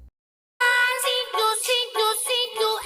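A song reworked with a music rebalance effect in FL Studio at 98 BPM plays as a dense, harmonic pop mix starting after a short silence, loud and steady with brief dips, no voices over it.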